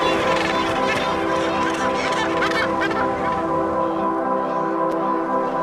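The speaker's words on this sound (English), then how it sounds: "Cormorants and gannets nest on offshore islands." Cormorants and gannets call at an offshore island nesting colony, a dense, continuous chorus of harsh honking cries that is loud and busy at first, then thins slightly toward the end.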